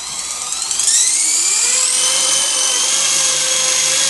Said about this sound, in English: the Walkera V200 DO2 flying indoors in about a 4x4 area